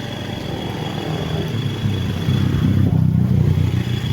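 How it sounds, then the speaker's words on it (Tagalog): Motorcycle engine droning steadily while riding along toward a farm, a continuous low rumble that swells slightly midway, with no talking. "Kami naman po nakamotor."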